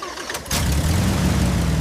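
A restored 1930s Bugatti engine catches after a brief cranking clatter and settles into a loud, steady running rumble close by.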